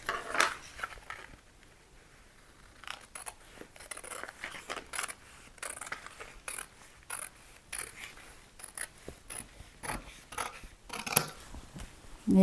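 Scissors snip through fabric while cutting a boat neckline, a close, quiet series of irregular crisp cuts and rustles, with no talking.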